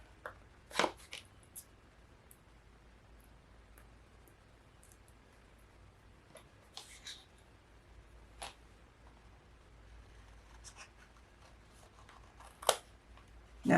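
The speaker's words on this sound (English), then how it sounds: "we're going to cut the corners" Scissors snip the corners of craft paper for a mini album in a few sharp, quiet clicks scattered across a near-silent room, close to the listener, with faint handling sounds between cuts.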